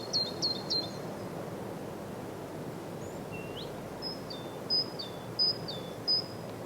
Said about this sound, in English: The sounds of birds.